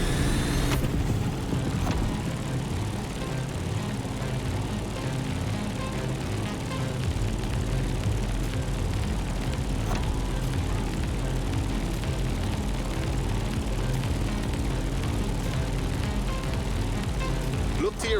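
Propeller aircraft climbing in The Crew Motorfest over Hawaiian scenery, a steady droning engine hum that holds level throughout, with a voice talking over it.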